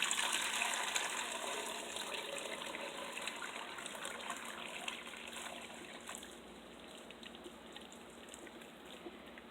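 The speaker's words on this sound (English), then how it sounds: "I'm going to strain this juice" Warm pineapple peel juice is poured through a strainer, making a steady gushing, trickling stream of liquid that gradually eases off.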